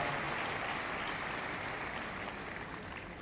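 A large arena crowd applauds a police dog display at Crufts, a distant, steady roar of clapping that holds evenly throughout and slowly tapers, with no voices standing out.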